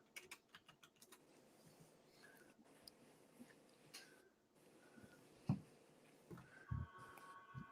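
Quiet, irregular tapping of computer keyboard keys in a room, with short bursts and pauses and a few louder clacks, no voices.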